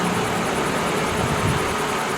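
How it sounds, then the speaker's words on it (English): A car engine idles steadily during an A/C recharge, a continuous even rumble with a broad airy hiss of fan or blower noise, constant in level and close by, with no speech. "Yeah, you could leave the engine running."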